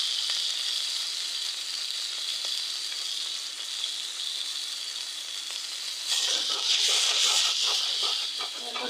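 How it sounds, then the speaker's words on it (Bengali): Katla fish curry spice masala sautéing in a pan, a steady close sizzle and fry hiss that swells louder after a few seconds as more goes in, with faint stirring. "তরকারি মশলাটা কষায় নিব, দেখতে থাকুন।"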